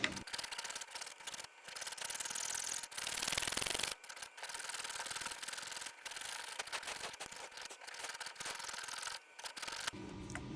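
A heavier saw blade cutting through an old bullet to make a handcrafted pendant: fast, continuous rasping strokes, close and fairly loud, broken by brief pauses between runs, with no talk.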